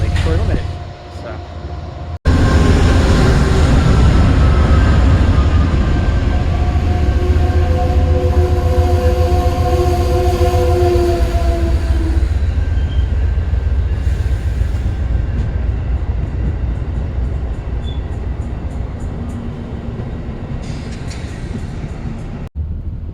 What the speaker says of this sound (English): this train that's ending with the baggage car. That is my Lakeshore Limited.